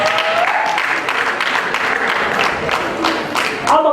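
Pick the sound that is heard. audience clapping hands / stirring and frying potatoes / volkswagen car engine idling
audience clapping hands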